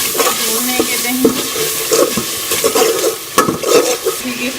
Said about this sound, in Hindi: वो भी अच्छी तरह से मसाले में भून लेंगे दही